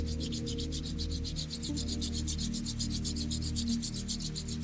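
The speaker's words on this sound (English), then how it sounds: "rubbing the palms together and magnetize the hands" Palms rub briskly together in a steady back-and-forth rhythm, a close, soft, regular swishing repeated many times over a low background hum, with no talking.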